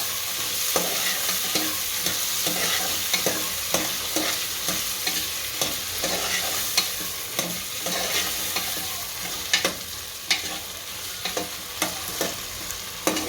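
Peas and spices sizzle in hot oil for wagharela bhaat, a Gujarati spiced rice, with a constant frying hiss and a regular rhythm of spoon-scraping stirs against the pan, fairly close and loud, with no talking.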